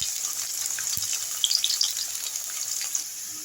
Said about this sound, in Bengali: তেলের মধ্যে একটু কালো জিরা ফোড়ন দিয়ে একটু আলুটাকে ভাজা করছি